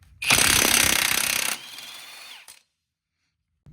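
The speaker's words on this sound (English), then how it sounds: "we're going to take a 32mm socket and take out the axle nut" An impact wrench rattles off the axle nut of a 4th-generation Subaru Outback with a 32mm socket, a loud, close hammering burst of about a second and a half that trails into quieter spinning before cutting off to silence.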